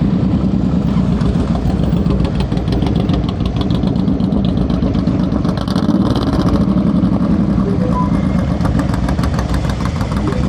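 A motorcycle engine runs steadily during slow-speed riding practice on an Illinois course, held under load with the clutch. The drone is loud and continuous with a rapid pulsing beat and slight swells around the middle.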